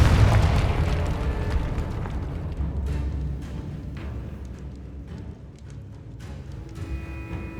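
Confringo fire spell exploding in the video game Hogwarts Legacy, a loud booming blast at the start that trails off into a long rumbling, crackling fade, with no talking.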